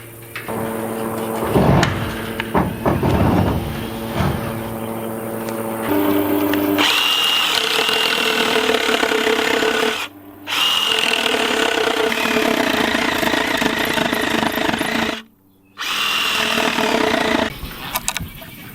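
A handheld power tool cuts a series of slots into a wooden board at a horse barn, its loud steady whine running almost continuously with two short pauses where the tool stops between cuts.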